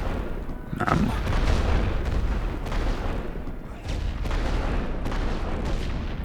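Artillery barrages in The Great War: Western Front, a run of heavy booms and rumbling blasts at mid distance in a continuous bombardment, with a faint voice occasionally underneath.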